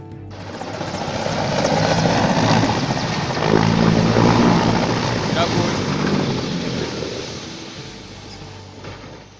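A helicopter makes a loud, dense roar of rotor and engine noise as it lands, with the pilot losing control. The sound swells and fades over several seconds while a voice talks over it.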